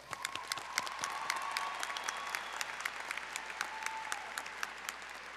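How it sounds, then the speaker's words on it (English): A commencement audience breaks into sustained applause, dense clapping from a large crowd spread across the hall, steady and moderately distant for several seconds. "I think they all deserve a big round of applause."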